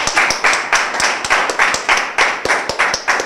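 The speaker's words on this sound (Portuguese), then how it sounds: "Aplauso, pessoal, aplauso." Live audience clapping at a rap battle, a rhythmic, evenly pulsed round of hand claps repeating steadily for a few seconds, close and moderately loud.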